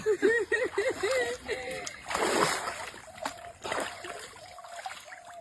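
Water splashes and slops around as someone is being taught to swim, with bursts of splashing among voices talking and a brief sung tune at the start.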